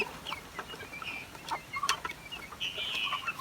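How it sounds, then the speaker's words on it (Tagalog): Crossbred native and Rhode Island chickens cluck and squawk nearby in short irregular bursts while pecking at each other, over soft background noise with no talking. "Ayan yung ating crossbreed sa native at Rhode Island. Mukhang nagtutukaan na naman sila."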